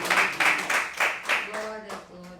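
A church congregation claps hands in a quick, steady rhythm, loud and close, before the claps give way to sustained voices singing or calling out.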